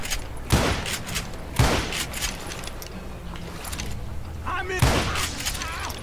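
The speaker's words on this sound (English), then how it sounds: "Fiz mais de um tiro de rifle." Three sharp, loud rifle shots ring out in the western shooter Call of Juarez Gunslinger, spaced a second or more apart over a continuous background of game noise, with voices talking.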